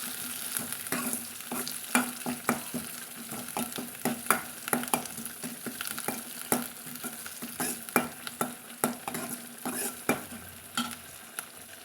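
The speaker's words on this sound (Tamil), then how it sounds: "இதை நம்ம நல்லா வதக்கலாங்க பொன்னிறமாக" Green chili and curry leaves sauté in a pan under a constant sizzle, punctuated by frequent sharp scrapes and taps of a stirring spoon against the metal in an uneven rhythm.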